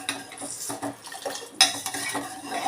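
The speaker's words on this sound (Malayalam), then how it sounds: "ഇനി നമുക്കൊന്ന് ഇളക്കി കൊടുക്കാം" A spoon stirs ingredients into sambar in a cooking pot, giving soft, irregular scrapes and light metallic clinks against the pot, quiet and close, with no talking.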